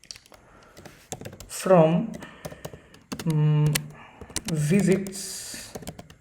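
Computer keyboard typing of SQL code, with clicky keystrokes in short irregular runs between and under someone speaking nearby.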